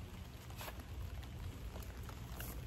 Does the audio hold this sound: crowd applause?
no